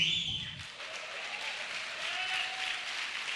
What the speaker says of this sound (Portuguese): Aplauda bem forte o Senhor